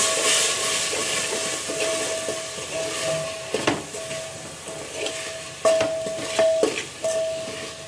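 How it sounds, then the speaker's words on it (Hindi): Spices being stirred into vegetables inside a pressure cooker, a continuous scraping and sizzling hiss with a few sharper metallic clinks of the spoon against the pot, close and fairly loud with no talking. "मसालों को कर देंगे सब्जी में अच्छे से मिक्स।"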